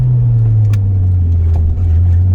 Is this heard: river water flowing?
no